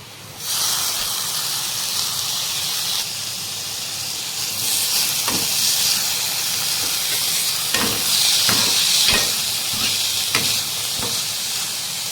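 Onion, green chilli, carrot and tomato fry in a pan for fried rice, giving a steady loud sizzle and hiss throughout with a few brief clinks of stirring.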